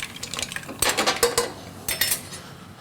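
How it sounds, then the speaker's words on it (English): Mussels and vegetables being stirred in a pot over raised heat, with close scraping and clinking of a utensil against the pan in a few short bursts. "Turn the heat up slightly and give it a stir around just like that"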